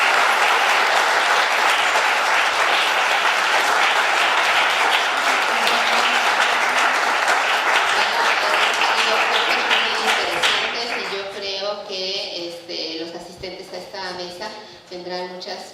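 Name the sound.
audience applause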